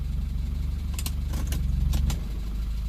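A car engine idles steadily after an oil pressure repair, a low even rumble with a regular pulse, close and alone apart from a few faint clicks.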